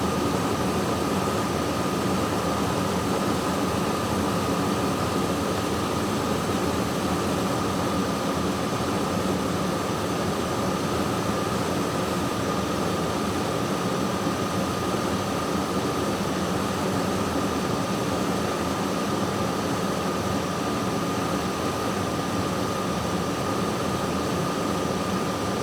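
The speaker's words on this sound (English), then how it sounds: "we should be able to watch the system start to cycle as the compressor kicks on and on" A car air conditioning compressor runs with the AC on max, giving a constant, loud, steady mechanical hum and broadband hiss that holds unchanged throughout, with no voices.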